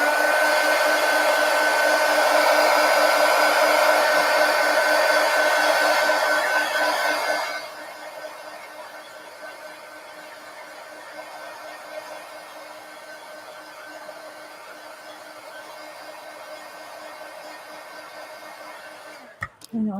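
A hair dryer runs steadily over an altered book collage, loud and close at first, then dropping to a lower, softer setting for the rest of the time before a brief handling noise at the end.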